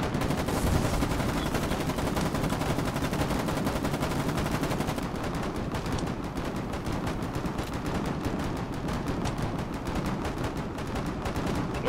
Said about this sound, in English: Watch out, they shoot!